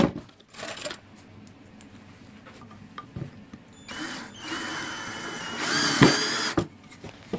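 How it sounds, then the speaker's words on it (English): A power drill whirs in short bursts while drilling screw holes for a rat and mouse defroster, with a louder, sustained drilling run near the end; close by, no talking. "Drill it down a little bit."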